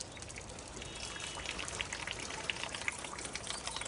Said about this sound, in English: You can hear that water from the little fountain going